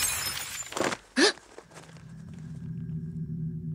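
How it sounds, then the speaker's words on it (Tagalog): Something breaks in the kitchen of an old house, a sharp crash with a brief shattering burst, followed by a lingering low rumble and hum. "Bakit may nabasag sa kusina?"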